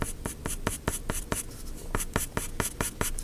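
A pencil shades paper for a horse drawing in quick, evenly spaced strokes, close up and crisp, with no voices.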